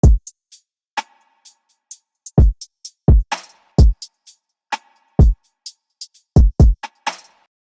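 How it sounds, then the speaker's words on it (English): Punchy kick drum hits in a sparse, bouncy pattern, interleaved with short bright ticks and clicks, with no voices. "now for the kick pattern, I wanted something which was simple but bouncy"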